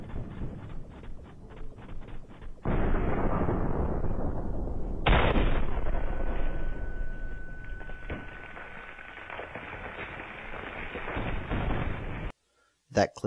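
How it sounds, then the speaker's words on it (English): A claymore mine going off in a video game, a loud sudden blast with a long rumbling decay, preceded by earlier sharp bursts, close and heavy. "That claymore worked well."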